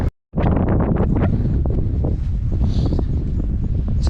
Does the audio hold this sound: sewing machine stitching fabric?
no